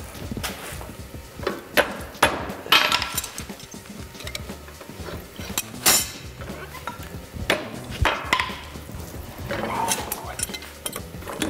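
Chainmail rings hammered on an anvil after coming out of the forge, heard as sharp metallic strikes in irregular bursts with clinks and handling clatter between them. Someone talks in the background.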